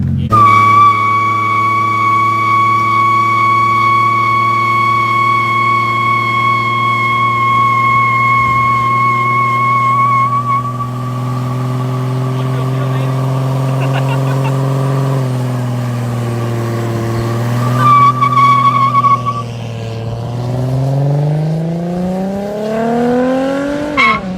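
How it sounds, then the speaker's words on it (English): Car doing a burnout, a loud, sustained high-pitched tire squeal layered over a revving engine that holds steady, then wavers and rises again toward the end. "Ready to do a burnout?"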